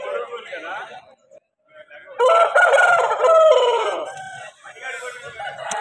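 A rooster at a busy rooster market crows loudly and close by in one long, wavering call, with someone speaking before and after it.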